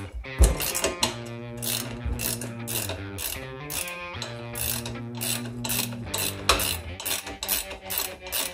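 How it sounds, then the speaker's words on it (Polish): A ratchet wrench clicks rapidly in repeated bursts while a crossbar bolt is undone on a BMW 1150 motorcycle in a garage, the close metallic ratcheting pausing briefly between strokes. "należy odkręcić śrubę poprzeczki"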